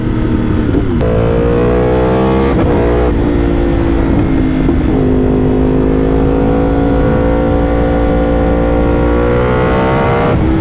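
A Yamaha R1 superbike engine revs loudly and shifts through gears at speed on the road, its pitch climbing and dropping continuously, with no voices.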